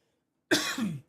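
A single harsh cough from a baseball play-by-play announcer during a Red Sox vs. Yankees broadcast, one loud close burst lasting about half a second with no talk over it.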